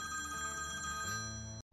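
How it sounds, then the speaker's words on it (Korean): Telephone ringtone from a film scene, a steady electronic ring tone playing continuously and loudly with a low sustained music bed beneath, cutting off abruptly near the end. "문학반에서 가장 친한 김소월 이분에게 전화가 오죠."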